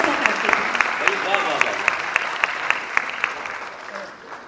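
Audience clapping at a Hindi kavi sammelan poetry gathering in Kolkata, sustained applause with distinct sharp individual claps standing out, fading slightly toward the end.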